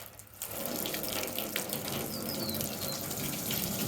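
A low-pressure water rinse washes snow foam off a car, a close, continuous splashing rush of water that starts abruptly and holds steady.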